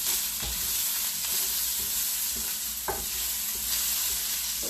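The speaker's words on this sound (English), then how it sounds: "I am going to put that over into my copper skillet, but I'm going to put the onions over there with that too." Corn and onions sizzling in a copper skillet, a dense continuous frying hiss with occasional light stirring clicks, close and steady, no voices.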